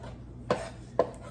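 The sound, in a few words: chopping focaccia toppings with a small handheld chopping tool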